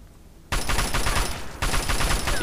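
Sustained automatic gunfire from the Fallout 3 video game, two loud bursts of rapid shots, the first running about a second and the second starting after a brief break, each with sharp dense repeating reports.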